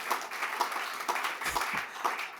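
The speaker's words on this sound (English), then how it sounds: "Can we just get an amen and hand clap for that?" Audience applause and hand clapping at a talk, a steady wash of many hands clapping at moderate distance with no voices over it.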